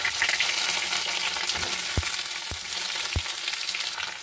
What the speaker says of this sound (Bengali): মাছ ভাজার তেলে বেগুন আলু ভেজে নেব